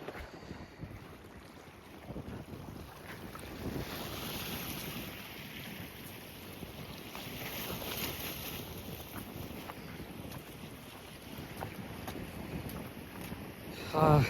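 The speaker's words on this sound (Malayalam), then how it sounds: "നല്ല അടിപൊളി കാറ്റടിക്കുന്നുണ്ട്" Strong wind blows steadily across open water beside a deep area near the shore, a continuous broadband roar with buffeting on the microphone and faint wave wash, no talk.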